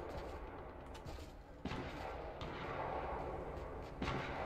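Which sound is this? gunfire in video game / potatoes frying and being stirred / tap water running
gunfire in video game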